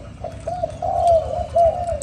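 Repeated throaty coos from a Thai competition cage dove come in a close, even rhythm of rounded notes, swelling slightly in loudness, heard alone without talk.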